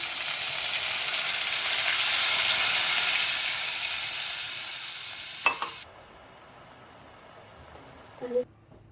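Water poured into a frying brinjal curry sends up a loud, close sizzling hiss for several seconds, with a metallic clink before the sound cuts off to near quiet and a soft clatter near the end.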